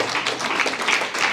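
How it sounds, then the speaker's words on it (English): Audience clapping at a Black Fire This Time national tour event at MoAD in San Francisco, a dense even patter of many hands, moderately loud and steady throughout with no talk. "Go ahead, clap for these people."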